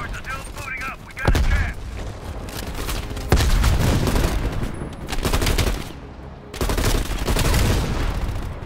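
A minigun fires in the Call of Duty Black Ops Cold War video game with loud, sustained rapid-fire bursts and booming impacts, pausing briefly between volleys.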